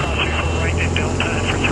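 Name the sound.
Diamond DA40 airplane engine powering up for taxiing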